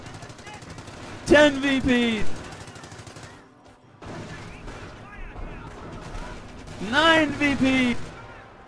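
Gunfire in a World War II strategy game match, machine-gun and rifle bursts crackling in clusters through the background while a commentator speaks loudly over them in excited bursts.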